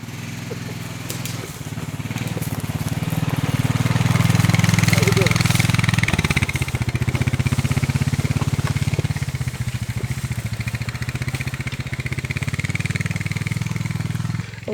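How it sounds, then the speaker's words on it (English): A four-wheeler ATV runs outdoors at a park, its engine a loud, steady rumble that swells as it nears and keeps droning close by, with motorcycles also present at the site. "I got a guy on a 4-wheeler coming right now"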